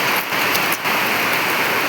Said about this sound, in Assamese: ইমান জোৰে বৰষুণ আহিছে অ'